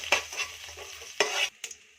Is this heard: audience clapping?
no